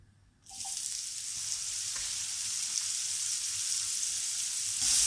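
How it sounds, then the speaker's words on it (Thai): Mushrooms hit a hot pan for a buttery stir-fry and break into a loud, steady sizzle that holds for several seconds, close and continuous with no talking. "ฉันจะใส่เห็ดก่อน"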